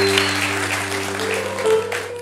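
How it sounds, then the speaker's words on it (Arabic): Audience applause at a talent show casting, steady clapping that stays loud throughout over a sustained musical tone. "تصفيقة كبيرة"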